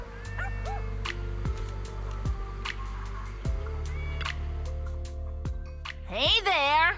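Small puppy yips and barks from a Zenless Zone Zero story scene, several short sharp yelps spread across the clip over game music, with a louder whimpering burst near the end.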